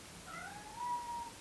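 A pet cat gives a single drawn-out meow that rises and falls, fairly quiet and close, alone in a still room.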